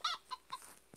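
A chicken in a video game clucks in a few short, sharp bursts, close and fairly quiet, with no talking.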